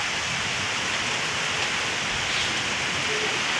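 Heavy rain pours steadily during a storm, a dense, loud, even hiss with no break and no voices.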